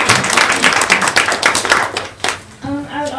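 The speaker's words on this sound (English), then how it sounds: "You can clap." An audience at a curated takeover-day event applauds with a quick patter of many hands clapping close by, which tails off toward the end as a voice starts speaking.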